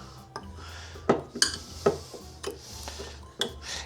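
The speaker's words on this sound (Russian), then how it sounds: "Сейчас я перемешаю с сахаром." A spoon clinks and scrapes against a bowl in irregular taps while stirring sugar, close up in a quiet room.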